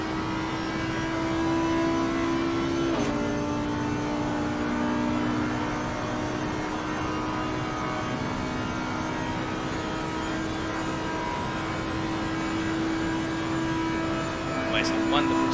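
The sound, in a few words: V10 engine of GT3 race car in racing video game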